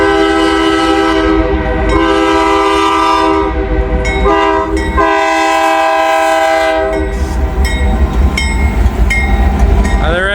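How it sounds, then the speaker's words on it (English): A Norfolk Southern mixed manifest freight train, led by an SD70ACe, sounds a loud, sustained horn in several long blasts while rolling past close by, with rumbling wheels underneath. "as we have a train coming. Norfolk Southern Mixed Manifest comes straight up."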